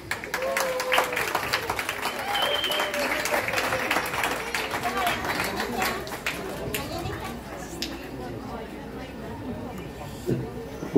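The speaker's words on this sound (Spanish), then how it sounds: "Y un aplauso para Janet" A crowd at an 18th birthday party applauds amid lively chatter and children's voices, clapping continuous and moderately loud before tapering off.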